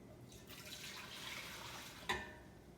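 Water from a tap pours steadily into a cooking pot as four cups are measured out, a continuous close splashing flow with one sharper splash near the end.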